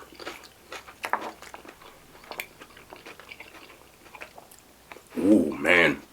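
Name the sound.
eating ceviche with red onion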